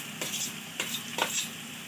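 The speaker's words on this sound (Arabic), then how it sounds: "هنشوح فيها شويه كده" Vegetables with carrots sauté in a pan with a constant sizzle, while a few quick stirring scrapes stand out above it and no one speaks.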